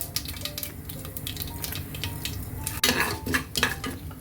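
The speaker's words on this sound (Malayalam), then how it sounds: "കടുക് പൊട്ടി വരുമ്പോഴത്തേക്ക് നമുക്കതിലോട്ട് 1 സ്പൂൺ ഉഴുന്ന് പരിപ്പ്," Mustard seeds and urad dal frying in hot coconut oil, a busy crackle of popping seeds with steady sizzle, a spoon scraping and stirring the pan close by, and a sharper burst of spatter near the end.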